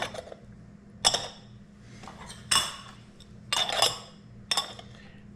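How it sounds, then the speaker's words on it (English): Lids set onto cocottes of grilled mushrooms, about four or five sharp ceramic clinks spaced a second or so apart, close and clear over a low background hum. "Then we're going to put on the lids."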